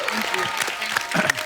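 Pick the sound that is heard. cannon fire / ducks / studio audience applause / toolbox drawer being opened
studio audience applause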